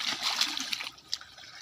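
Water splashes and runs briefly during a heated argument, a soft spattering rush that fades after about a second.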